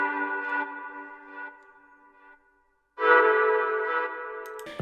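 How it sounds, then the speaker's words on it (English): The Sakura synth pad plugin plays two soft, sustained chords in a lofi beat made in FL Studio. The first swells and fades into a short silence, then a brighter second chord enters, alone and without voices. "The Sakura pad sounds like this."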